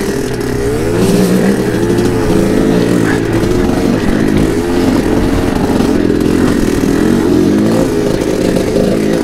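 Kawasaki KDX220 dirt bike engine revving hard as its rear wheel spins in soft riverbed sand, a loud continuous two-stroke drone with rising and falling throttle, close up and steady throughout.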